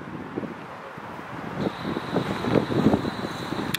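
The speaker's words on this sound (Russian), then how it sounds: "Забрались наверх, сейчас сильный ветер." Strong wind at a high viewpoint above the city of Baku, Azerbaijan, gusting in an uneven low rumble with microphone buffeting throughout, growing louder toward the end.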